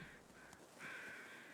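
Crows caw repeatedly over a steady outdoor ambience in the video game The Long Dark, the harsh calls fairly close and loud, with a longer burst of cawing in the second half.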